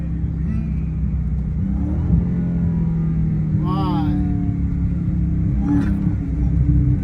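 A Dodge Hellcat engine rumbles loudly and revs up briefly as it downshifts, with a voice speaking over the steady engine drone.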